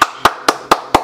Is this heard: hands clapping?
yes